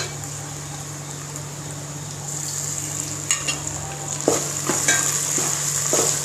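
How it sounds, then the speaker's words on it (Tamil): Ginger garlic paste sizzling and frying in a pan for mushroom biryani, a steady close sizzle with scraping stirs and clinks in the second half. "இந்த ஸ்டேஜில் வந்து நம்ம இஞ்சி பூண்டு பேஸ்ட் போடணும்."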